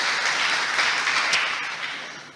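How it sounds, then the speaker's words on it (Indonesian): A church congregation applauds during a sermon, a broad wash of clapping that swells briefly, then steadily tapers off and grows softer, with no speech over it. "Tepuk tangan dulu yang meriah bagi Tuhan."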